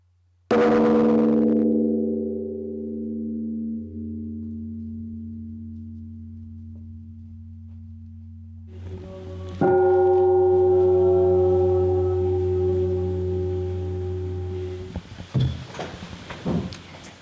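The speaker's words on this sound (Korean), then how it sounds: "대종소리는 만물을 깨운다고 그러죠" Large temple bell at a Buddhist monastery, struck with a deep booming tone that hums and fades slowly, then rings again with a second strike and a long resonant decay, loud and alone.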